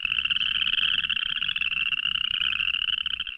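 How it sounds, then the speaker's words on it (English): A chorus frog calls in a dense, continuous chorus of rapid, rasping trills that fills the scene steadily from start to finish, with no voices. "that was a good example of a chorus frog. That's exactly what they sound like."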